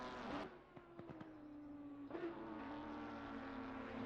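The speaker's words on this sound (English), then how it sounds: "I can hear the Porsche Cup cars spinning up already" Porsche Cup race cars revving up in a Zolder endurance racing video game, a steady engine drone holding a sustained whine with brief clicks and a rising surge partway through, no voices.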